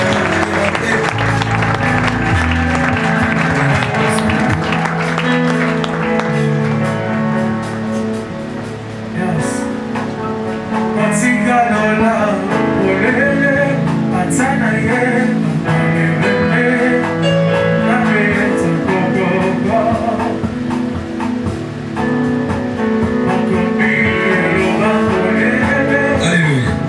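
A church congregation applauds and acclaims the Lord, sustained clapping and voices blended with ongoing worship music at full volume throughout.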